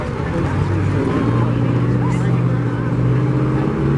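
Several Detroit Diesel truck engines rumble together in a steady low drone during a truck parade at a truckers' day event, loud and continuous throughout.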